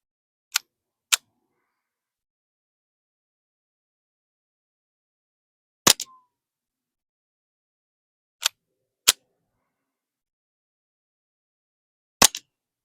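A suppressed Ruger Mark IV pistol fires quiet ammunition, giving six sharp, dry clicks, some in quick pairs, spaced out over silence, each shot no louder than a staple gun.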